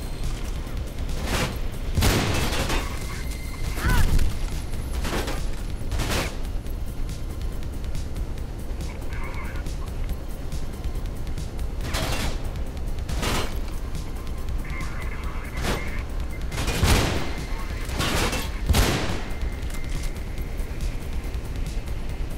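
Sporadic loud gunshot blasts in the video game Mirror's Edge, some in quick pairs, ring out over a steady game-like background hum, spaced irregularly with no voices.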